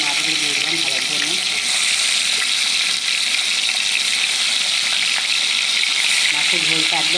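Fish frying in hot mustard oil in a wok, a loud continuous sizzle that stays close and steady, with faint bubbling and occasional stirring sounds mixed in.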